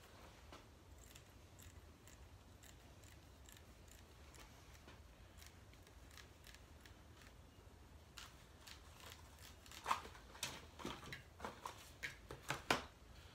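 Scissors cut a small pad from rubbery rug-grip material in a small studio, with faint ticking snips that grow into a run of sharper, closer cuts near the end.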